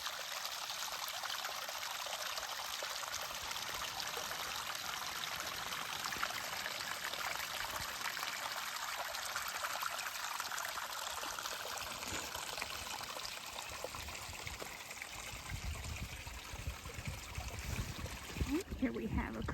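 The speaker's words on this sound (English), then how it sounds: "Here we have a creek." A creek runs outdoors, a continuous soft rushing and trickle of flowing water heard at close range, steady throughout with a brief rustle near the end.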